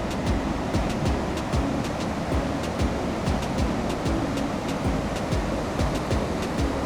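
Rushing floodwater from a risen river in Germany during heavy flooding, a steady broadband roar of flowing water heard close and continuous, with no voices over it.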